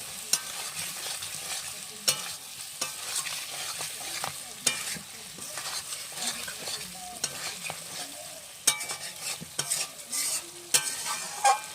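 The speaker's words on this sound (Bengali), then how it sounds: "কচুটা দিয়ে একটু নাড়াচাড়া করে আমি জল দিয়ে দেবো" Chopped taro stirred into chicken curry in a hot pan, with a steady sizzle of frying under repeated scraping strokes and spoon taps on the metal, close up and with no voices.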